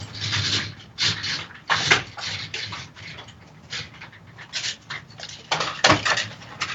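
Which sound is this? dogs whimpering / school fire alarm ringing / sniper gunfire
dogs whimpering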